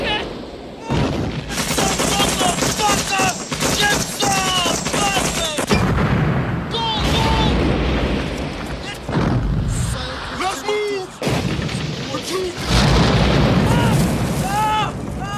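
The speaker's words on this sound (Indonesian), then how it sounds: "langsung menghujani tentara Amerika dengan bom dan tembakan" Dense, continuous battle noise from Viet Cong attacking American soldiers: repeated booms and bursts of gunfire mixed with shouting voices, loud and chaotic throughout.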